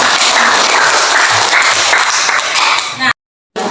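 Classroom applause as students clap together on a teacher's cue, a busy, close patter of many small hands with some voices mixed in, cutting off abruptly and briefly before resuming.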